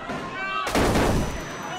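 A gun fires in a special forces virtual reality training simulator using real weapons with compressed air or blanks, giving one sharp, loud blast partway through over a busy noisy background.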